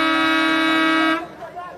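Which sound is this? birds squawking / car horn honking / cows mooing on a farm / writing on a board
car horn honking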